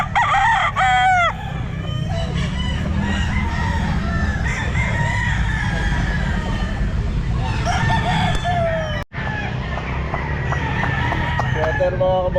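A Sweater gamefowl rooster, eleven months old, crows loudly at a pet market amid clucking fowl and a busy crowd murmur, with several crows and steady background chatter.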